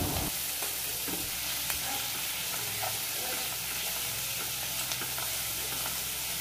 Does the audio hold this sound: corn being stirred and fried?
yes